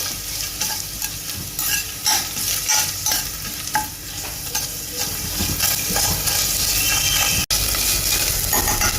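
Food is stirred in a frying pan while cooking a weight-loss pulao, with a constant close sizzle and rhythmic scraping strokes of a spatula against the pan, heard alone with no talking.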